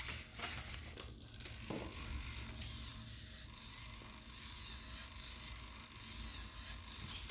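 A small servo-driven turret on a student-built automated defense system rotates back and forth, sweeping for targets with a steady, faint mechanical whir and soft, periodic rising whines as it changes direction.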